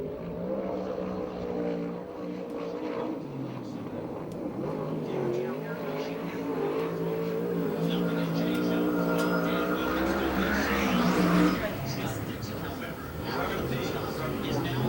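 A USAC/CRA sprint car, number 66 from Lake Elsinore, roars around the track at Perris, California, its engine droning steadily and building to a louder pass, while an announcer talks over it.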